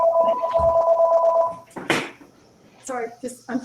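An electronic landline telephone ringing with a steady warbling tone, quickly cut off, followed by a person talking nearby.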